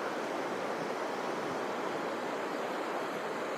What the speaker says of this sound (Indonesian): Salah satunya air di sekitar saya ini, air terjun yang luar biasa.